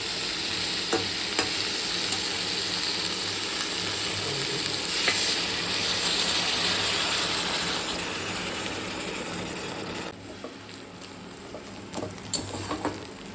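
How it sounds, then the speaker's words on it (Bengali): Fish frying in a pan with chilli, a steady loud sizzle and crackle throughout with a few sharper pops, easing slightly near the end. "এখন মাছ ভাজবো"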